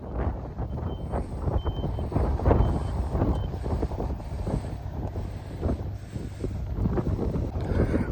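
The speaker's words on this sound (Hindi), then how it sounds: "बहुत तेज़ हवा इस टाइम" Strong wind buffets the microphone in continuous low rumbling gusts, with a faint repeating beep in the background.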